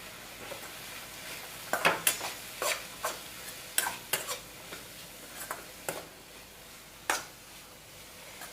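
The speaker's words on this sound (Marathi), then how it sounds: "या सर्व भाज्या मस्तपैकी छान तेलामध्ये फ्राय करून घ्यायच्या" Vegetables frying in oil on a tawa for a bread sandwich, with a low sizzle under sharp, irregular clinks and scrapes of a spatula against the pan, close and clear with no talk.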